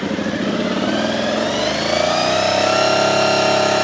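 A Honda VFR400 motorcycle engine runs with the choke on, a close, loud, steady idle whose pitch rises slightly and then holds at a high, even fast idle.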